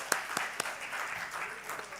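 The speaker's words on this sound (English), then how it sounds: "Applause, applause," Applause from an audience at an evaluation summit, steady broadband clapping with a few sharper claps standing out, moderately loud throughout.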